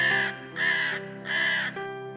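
Three loud, harsh cartoon crow caws in a row, each drawn out and evenly spaced, close by with a steady low hum underneath.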